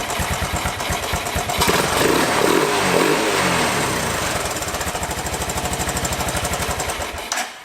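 Old Honda three-wheeler engine running on its original, dirty OEM carburettor, a loud close-up rapid single-cylinder putter that swells briefly into a rougher revving roar before settling back to a steady chugging idle and cutting off.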